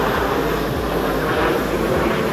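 Several Al Fursan display team jets flying together in formation at an airshow in Langkawi give off a loud, steady, broadband jet roar that holds constant throughout, with no other sounds.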